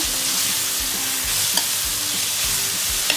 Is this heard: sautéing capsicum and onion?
yes